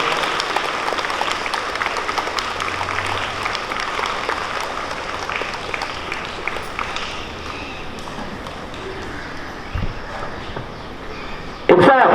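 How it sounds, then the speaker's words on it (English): A school crowd applauding at a Republic Day flag hoisting ceremony, a steady continuous wash of many hands clapping outdoors throughout, with a brief louder burst at the very end. "Clap everyone."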